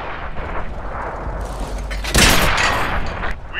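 A Russian T-46 light tank fires in a World of Tanks-style game, a loud booming shot that bursts midway through rumbling engine and battle noise.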